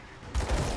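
Mortar fire in the action RPG Grim Dawn: a sudden heavy booming burst after a quiet moment, with a couple of deep impacts rolling on loudly to the end.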